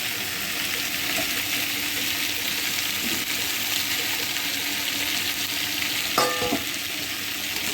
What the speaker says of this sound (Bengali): তরকারিটা কষানো হয়ে গেছে, এবার জল দিয়ে দিই।